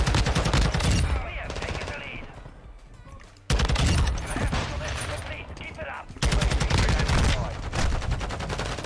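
Rapid bursts of automatic rifle fire from a Taq-56 in Modern Warfare II, loud and dense, come in three volleys separated by brief drops, with someone talking faintly underneath.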